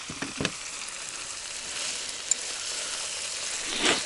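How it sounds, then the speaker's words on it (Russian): Onion sizzles and fries in a pan at a taiga camp, a steady close crackling hiss with a few brief knocks of stirring. "для аромата вставляем лучок туда. И все это дело обжариваем."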